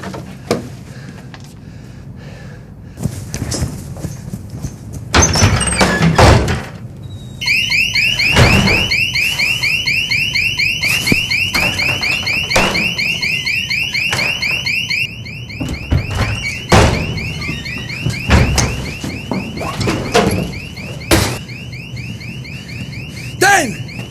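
A car alarm blares with a rapid repeating electronic whoop for several seconds, among loud knocks and bangs, then cuts off and the thuds continue.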